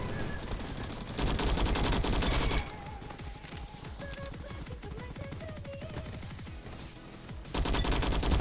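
Rapid bursts of Skorpion submachine gun fire in the Roblox shooter Bad Business, loud continuous automatic volleys with a short pause in the middle, no voices.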